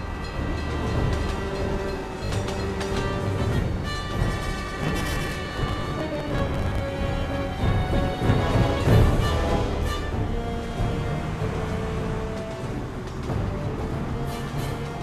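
A train runs in the Secret World Legends video game, giving a continuous loud rumble and rattle of rolling carriages with clanks and metallic squeals rising and falling throughout, heard without talk.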